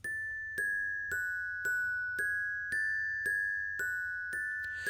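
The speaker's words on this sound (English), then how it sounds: "So a resonant Glockenbell, if it's called." Resonant Glockenbell synth patch from Omnisphere playing a bell melody in a Travis Scott style beat, with evenly spaced bright bell strikes roughly every half second over a low hum, each note ringing and decaying, clear and alone.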